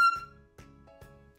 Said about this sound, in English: you're probably gonna squeak and it's gonna sound like this